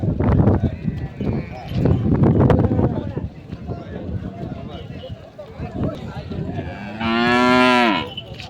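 Cows at the Bagalur cattle market near Hosur, with a loud, drawn-out moo near the end rising over busy crowd chatter and talking throughout.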